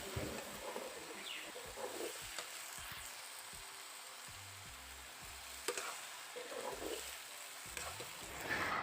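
Turai leaf greens frying in a full wok, a steady soft sizzle with occasional stirring scrapes, close and moderately quiet.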